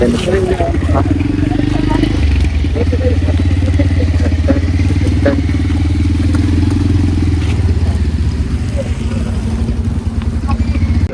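Motorcycle engine running steadily near a rocky hilltop tourist spot in a forest area, a continuous low hum with clatter throughout, while people talk over it.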